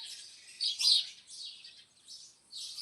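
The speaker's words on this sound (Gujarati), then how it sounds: "પણ પક્ષીઓના શોરગુલથી જગાઈ જાય." Small birds chirp and tweet in short, bright bursts on a quiet village morning, several calls following one another at a moderate distance with no other sound around them.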